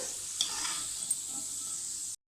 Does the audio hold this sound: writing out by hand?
no